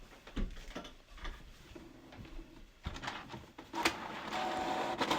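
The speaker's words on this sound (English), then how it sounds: "Right now I'm looking at the bottom and the page is coming out" Canon Pixma TS8320 inkjet printer feeding and printing a page, with soft mechanical whirring, clicks and a rising rattling drive noise toward the end, close up with no talk.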